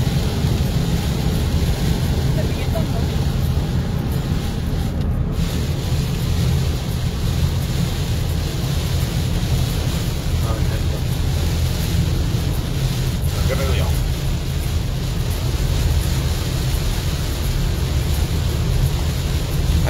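Heavy rain pouring down during flooding, a steady dense roar of water and wind that fills the whole scene with constant broadband noise.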